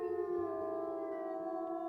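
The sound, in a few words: wolf howling, deep, in video game WolfQuest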